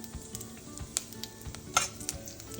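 Mustard seeds with dried red chilli crackling in hot oil for tempering, a low steady sizzle broken by scattered sharp pops and spits, close and fairly quiet.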